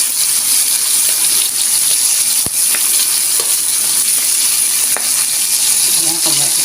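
Dried salted fish (daing) frying in hot oil, a steady close, loud sizzle and crackle running throughout with occasional sharp pops and spatters.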